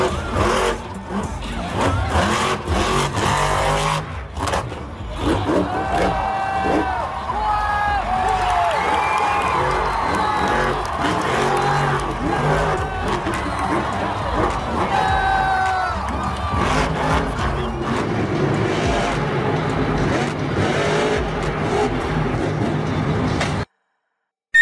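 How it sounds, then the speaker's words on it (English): The shark-themed Megalodon monster truck roars and revs through a performance while a large crowd cheers and shouts, engine and crowd noise rising and falling together. "this shark-themed truck is fierce in its performances and looks intimidating with its aggressive design, making it a crowd"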